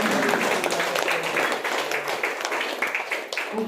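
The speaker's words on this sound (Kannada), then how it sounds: "ಜೋರಾಗಿ ಚಪ್ಪಾಳೆ" Applause from an audience at a product opening function for Green Life Therapy, a dense, steady wash of many hands clapping throughout, fairly close and loud, with brief voices mixed in.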